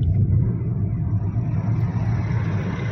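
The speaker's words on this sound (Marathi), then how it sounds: "आणि हे सचिन भाऊ ड्रायव्हिंग करताय" Steady low engine rumble and road noise fill the cabin of a car on a road trip from Lonavala toward Goa, constant and close throughout, with no talk.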